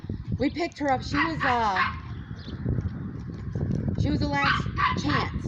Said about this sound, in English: pup Chief barking in the background